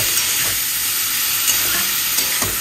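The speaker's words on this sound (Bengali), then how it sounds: "সবজিগুলো ভাজা হয়ে গেছে" Mixed vegetables fry in a pan with a continuous loud sizzle, punctuated every so often by scraping and knocking of a utensil stirring them, with no voices.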